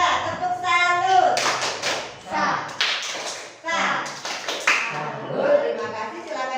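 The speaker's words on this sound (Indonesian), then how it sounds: "Beri tepuk salut untuk kelompok gembira." A classroom of children performs rhythmic tepuk salut clapping, short bursts of synchronized claps alternating with chanted voices, close and lively.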